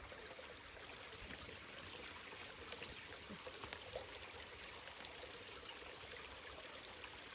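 Water falls steadily from the outlet of a solar-powered pump running on six panels, a constant faint rushing splash that holds evenly throughout without any voices.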